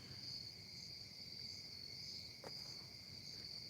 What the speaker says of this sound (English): can you hear all the crickets and everything?